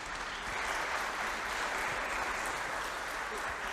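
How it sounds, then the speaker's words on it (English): Audience applause for the panelists at a government partnership panel event, a steady dense wash of many hands clapping that continues throughout at moderate level. "Let's give them a round of applause"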